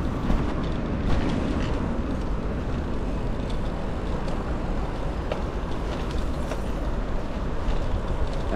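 A tram rolls past on Boulevard Raspail with a steady low rumble and rail noise, loud and continuous throughout, with no talking.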